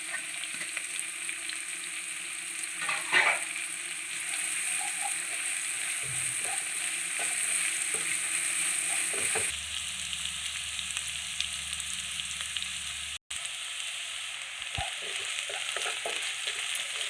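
Onions fry in a pan with curry leaves and green chillies, a continuous close sizzle broken by scraping stirs and occasional utensil knocks.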